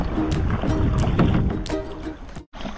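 A kayak paddled fast through lake water at Naukuchiatal, steady splashing and rushing water with wind across the microphone, loud and close, briefly dropping out near the end.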